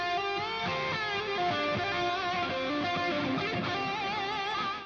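A rich, layered musical passage runs through a Waves Studio Rack plugin chain with added reverb thickening the sound, steady and loud from start to finish with no voices.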